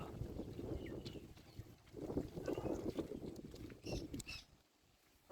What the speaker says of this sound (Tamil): இப்போலாம் சரியான காற்று அடிச்சுட்டு இருக்கு